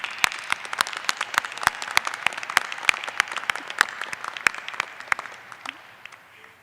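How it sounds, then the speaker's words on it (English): Audience applause at a 2021 law school commencement ceremony, many sharp individual claps over a steady wash of clapping that fades slightly toward the end, heard alone without speech. "I think that marks some applause."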